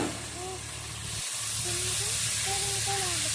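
Mixed vegetables for a curry sizzle steadily as they are sautéed in a pan, a continuous bright frying hiss that stays close and loud throughout, with a faint voice humming or speaking underneath.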